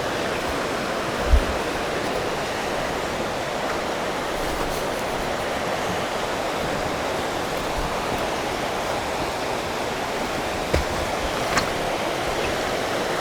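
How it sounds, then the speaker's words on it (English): The South Fork of the Smith River rushes along close by in a steady broadband wash of flowing water, continuous throughout with a few faint knocks and no voices. "I'll mic some of the river here"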